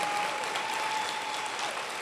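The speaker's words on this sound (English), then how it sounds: "Give them a round of applause for helping to prepare you." Steady applause from a graduation audience honoring nursing faculty and staff at a nursing pinning ceremony, dense and continuous throughout without any talk.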